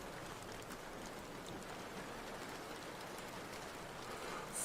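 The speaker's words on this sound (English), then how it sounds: "the rain's just not letting up, is it? No, it's going to rain all day." Steady morning rain pours without letup, an even, unbroken wash of hissing patter at moderate distance with no voices over it.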